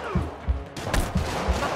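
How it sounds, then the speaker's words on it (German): Enemy gunfire in the Spider-Man Remastered video game: a dense, loud burst of rapid shots with repeated thumping impacts over steady noisy game action, up close. "Hört doch mal auf mich zu schießen."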